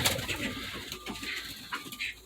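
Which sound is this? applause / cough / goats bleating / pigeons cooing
pigeons cooing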